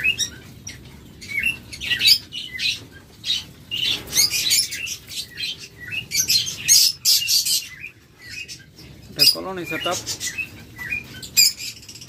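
Caged pet birds, including diamond doves, chirp and squawk in a colony setup, with busy overlapping tweets and calls throughout and someone speaking over them.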